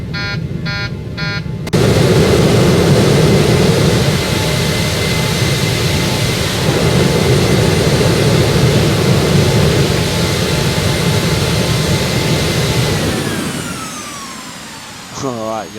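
Boeing 737-800 jet engines in the X-Plane 11 flight simulator spool up after a short beeping alarm, holding a loud steady roar before winding down with a falling whine near the end.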